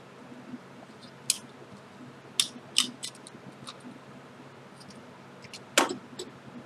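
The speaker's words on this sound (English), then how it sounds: "So I'm going to trim it down so nobody cuts himself on it." Scissors trimming the sharp inner edge of a metal tube: a handful of crisp, isolated snips and clicks spaced irregularly over a quiet background.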